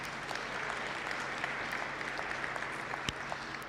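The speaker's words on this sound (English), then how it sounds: "A round of applause for yourselves." A room full of people at a graduation ceremony claps steadily, a dense even patter of applause without a break for several seconds.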